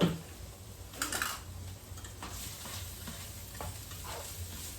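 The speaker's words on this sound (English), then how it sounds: "we'll just give it a quick stir" Linguine clam sauce stirred in a pan, a soft sizzle under scattered scrapes and clicks of the utensil against the pan, fairly quiet with no talking.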